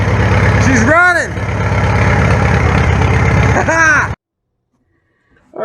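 An old farm tractor engine fires after barely cranking and settles into a loud, steady rumbling idle close by, with a couple of rising groans, then cuts to silence near the end.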